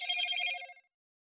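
An incoming call rings on a phone, a bright trilling electronic ring lasting under a second before it stops abruptly, moderately faint with no voices.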